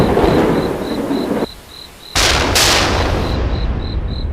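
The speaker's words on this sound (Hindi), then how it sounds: "देखो तो अभी तक ये बारिश बंद नहीं हुई, ये तो रुकने का नाम ही नहीं ले रही है।" Heavy rain pours steadily while loud thunder crashes break in, with a sharp, bright clap rolling through near the middle of a stormy cold-weather scene.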